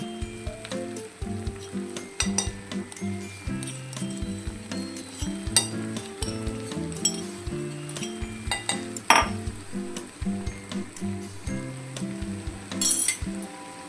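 A ground paste of green chili, garlic and peanuts goes into frying okra for bhindi thecha, steady sizzling under repeated clinks and scrapes of a metal spoon against the pan, close up and without voices.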